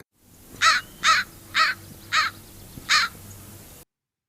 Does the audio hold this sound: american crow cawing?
yes